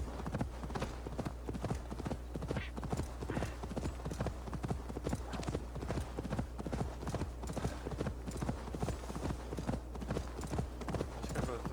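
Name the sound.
horse hooves clip-clop in Assassin's Creed Valhalla video game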